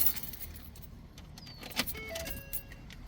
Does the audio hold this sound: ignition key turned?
yes